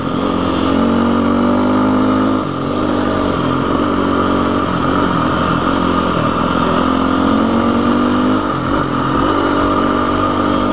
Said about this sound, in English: it feels good to be back on this KTM. She is, she's running really well right now.